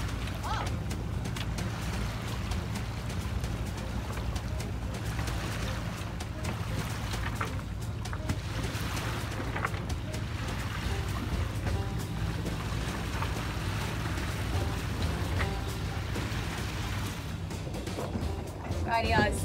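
A Contessa 32 sailboat glides in very light wind on a winter day near Purau Bay, New Zealand, with a soft continuous wash of water along the hull and low background rumble, quiet and steady throughout.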